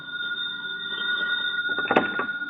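A telephone rings in an FBI espionage radio drama, a steady electronic ring tone held through the clip with a couple of clunks and a rattle near the end, close and clear with no voices.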